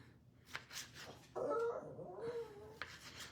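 A dog whimpers in a home kitchen, a brief high, wavering whine rising and falling for about a second over quiet room noise, with faint thumps before and after.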